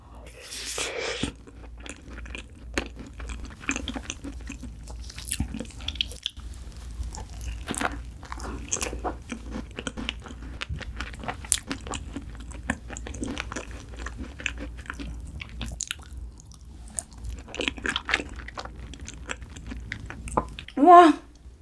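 Close, soft bites and squishy chewing of a fig rare cheese tart, with faint crunches and small mouth sounds scattered across a quiet room, and a brief vocal sound near the end.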